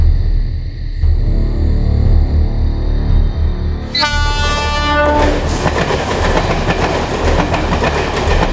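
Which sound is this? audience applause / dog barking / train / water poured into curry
train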